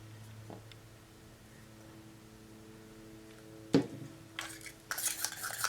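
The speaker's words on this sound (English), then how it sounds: "grab something to stir it with. I'm just using a little plastic fork here" A little plastic fork stirs watered-down orange paint, quiet at first, then a sudden clink followed by light scraping and clattering taps near the end.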